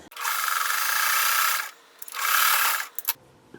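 A sewing machine stitches a quilt block in two bursts of fast, even mechanical whirring, close and fairly loud, separated by a short pause and followed by a few faint clicks.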